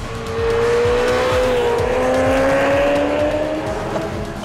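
A Ferrari 348 with a 3.4-litre V8 being driven, its engine a loud, close, continuous drone that climbs slowly in pitch as it accelerates, with no voices over it.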